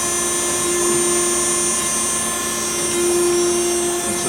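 An Okamoto ACC-16.32EX automatic surface grinder runs its wheel dressing cycle, giving a loud, steady high-pitched whine with a constant mechanical hum, near and unbroken.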